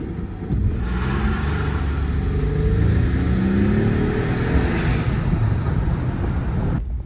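A Ford F150 truck tuned to 650 horsepower holds around 2,000 RPM and then launches, its engine roaring louder and rising in pitch as it pulls hard, a deep close rumble throughout.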